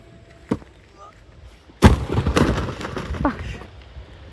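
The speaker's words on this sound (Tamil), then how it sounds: "இன்னைக்கு தான் நிறையா வெடிக்க போகிறோம். வாங்க வெடிக்கலாம்." Diwali firecrackers burst outdoors: a small pop comes first, then a loud sharp bang followed by rattling, crackling bursts that taper off over a few seconds.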